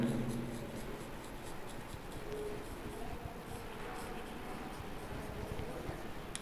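Pen on paper during a math lesson on arithmetic progressions, a steady continuous scratching and rubbing that runs throughout, fairly close and moderately loud, with no speech over it.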